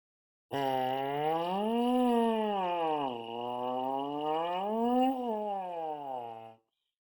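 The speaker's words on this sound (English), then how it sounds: "with your mouthpiece, you have to be able to buzz and control and make high and low sounds like this" A buzzing brass mouthpiece sweeps smoothly up and down in pitch, sliding low to high and back twice in a sustained, continuous tone.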